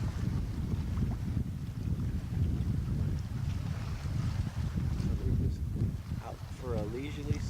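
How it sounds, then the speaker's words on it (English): Heavy wind buffeting the microphone aboard a sailboat on a whitecap day out on open water, a constant low roaring rush with a voice talking over it. "White caps means that it's a pretty heavy wind day."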